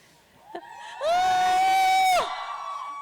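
A crowd of girls and women at a literary conversation event lets out a sustained high-pitched scream and cheer, loud and unified for about a second, then fading into lingering chatter.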